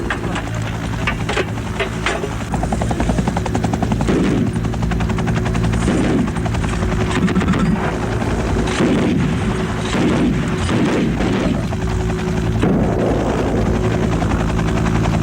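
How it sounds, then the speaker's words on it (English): A Soviet military helicopter's rotor thumps loudly and continuously while heavy bursts of gunfire and booming blasts punctuate it at intervals as it strikes a village in Afghanistan. "the helicopter strikes the easiest target available, a nearby village"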